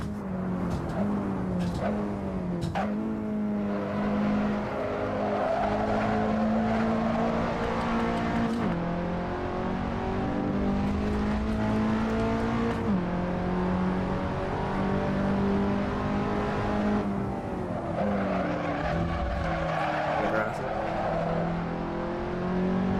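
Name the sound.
race car engine and tyres in a racing simulator video game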